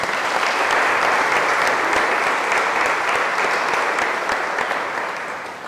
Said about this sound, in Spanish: Un aplauso para nosotros